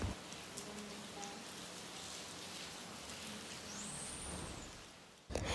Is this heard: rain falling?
yes